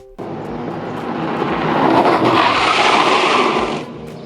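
A Polytron Fox R motorcycle on Michelin Pilot Street tyres brakes hard with locked wheels, giving a loud broadband rushing roar that swells, holds for about two seconds, then cuts off abruptly.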